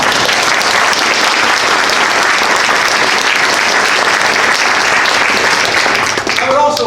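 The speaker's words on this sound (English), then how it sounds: "So I'd like to have a round of applause for all of our sponsors." Sustained, loud audience applause for forum sponsors at an event on birds and climate change, a dense steady clatter of many hands that thins out in the last moment.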